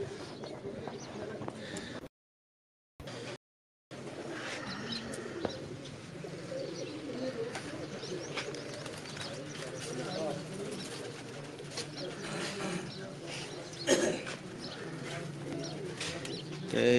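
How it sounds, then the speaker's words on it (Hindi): Breeder and flying pigeons coo softly and repeatedly among faint chirps, with people talking throughout and a brief gap of silence early on. "उनके ब्रीडर कबूतर और प्रवाजी कबूतरों का शौक करवा रहे थे आपको"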